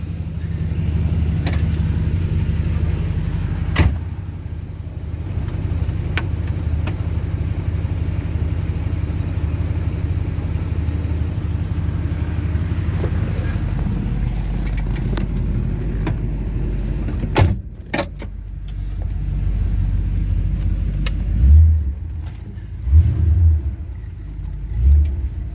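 A car driving along with its windows open, steady road and engine rumble with wind noise throughout, a few brief clicks and bumps near the end.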